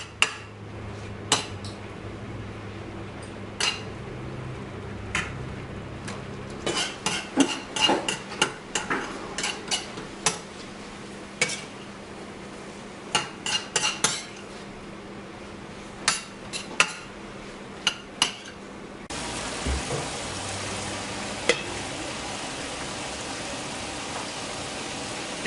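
Chicken, red cabbage and cashews are stir-fried in a pan with repeated clinks and scrapes of a utensil against the metal over a steady sizzle, and the sizzling grows louder and denser toward the end.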